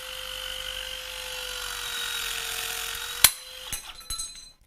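Milwaukee M18 cordless strut shear whirring steadily as it cuts through metal strut, ending in a sharp metallic snap followed by a few clinks of the falling piece.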